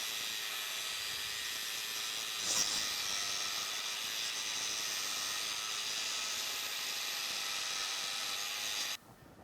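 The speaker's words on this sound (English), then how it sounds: "I have gone in here and ground as far down into that crack as I can get even with that big wheel that I have" Angle grinder with a large-diameter wheel grinding into a crack in a large, heavy casting, steady high-pitched whine and hiss lasting about nine seconds before cutting off abruptly.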